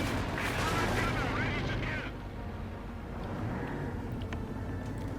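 Gunfire and explosions from a Company of Heroes 2 battle, with a .50 caliber machine gun rattling amid dense artillery-like booms and rumble, loudest early and continuing under a caster's ongoing talk.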